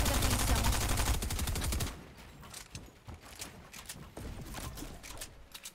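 Loud bursts of rifle fire from a thermal rifle in an online arena shooter game crack out densely for the first two seconds, then sparser shots and scattered gunfire effects follow at lower level.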